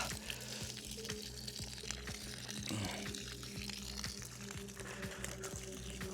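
Fresh mountain snow-runoff water pours steadily into a cistern, making a continuous rushing, splashing wash that holds at an even level from start to finish with no talk over it.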